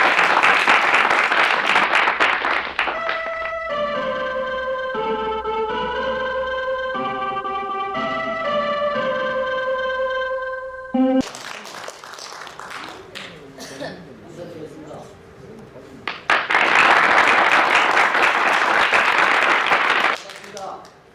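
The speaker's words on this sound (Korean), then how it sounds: "다시 한번 큰 박수 보내주시기 바랍니다" Audience applause at a Korean filial-piety instructor selection screening, bursts of broad clapping at the start and end separated by a stretch of sustained tonal music and talk, loud and close.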